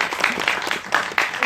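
An audience at a Korean film screening talk bursts into applause, a short burst of many hands clapping in quick irregular rhythm, moderately loud and close, with no speech over it.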